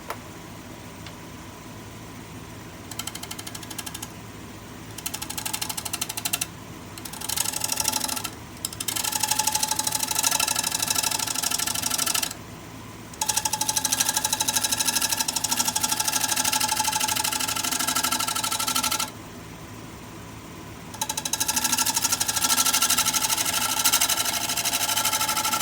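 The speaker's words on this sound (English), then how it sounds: "1/2 inch bowl gouge. Like I said, all we're doing is cleaning it up." A wood lathe turns a bowl being cleaned up with a 1/2 inch bowl gouge, the steady motor hum broken by repeated bursts of loud scraping and cutting noise with short pauses between passes.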